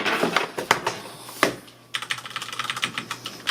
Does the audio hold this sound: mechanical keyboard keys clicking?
yes